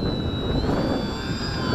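An XK A600 DHC-2 Beaver RC airplane drones in a steady, high electric motor whine as it flies S-turns in the wind, with the pitch shifting slightly and a broad rush of wind noise underneath.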